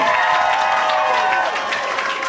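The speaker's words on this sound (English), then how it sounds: "Let's give her a big round of applause as she comes up" An audience in a theatre show venue applauds, a dense continuous wash of clapping from a crowd that stays loud throughout and eases slightly toward the end.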